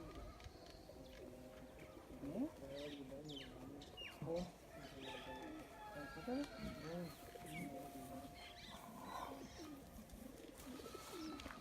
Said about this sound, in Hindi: जनाब 3 कबूतर आए ने इन्होंने।